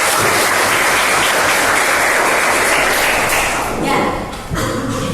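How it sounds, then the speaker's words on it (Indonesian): An audience claps for a student after a reading in a school classroom, a loud dense burst of applause that tapers off near the end as a voice begins speaking. "Tepuk tangan untuk Mbak Jingga."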